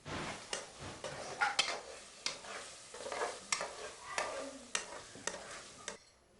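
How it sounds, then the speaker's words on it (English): Fish soup cooking in a home kitchen in Ghana: a utensil scrapes and stirs the pot in repeated strokes over a low bubbling sizzle, close by and moderately quiet, with no talking. "Aunt Sarah's making fish soup"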